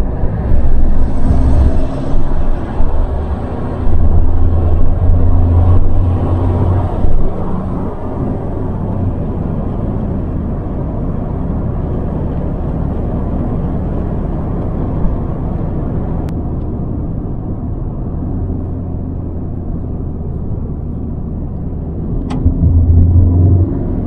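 An Opel Meriva 1.3 CDTI diesel MPV driving along a winding road, heard from inside as a continuous loud low engine and road rumble that swells and eases slightly with the bends, with no one talking.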